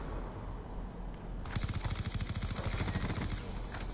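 Rapid gunfire from the video game Call of Duty Black Ops 2, a sudden burst of repeated automatic shots starting partway through and continuing steadily to the end, fairly faint in the mix.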